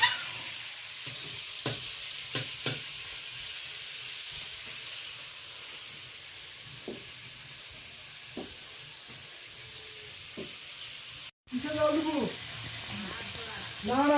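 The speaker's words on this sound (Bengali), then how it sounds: "চিংড়ি মাছটা বেশ হালকা করে ভেজে নিয়েছি।" Prawns fry lightly in a pan with a steady, soft sizzle and hiss, broken by a few faint clicks and stirring knocks; a voice briefly speaks near the end.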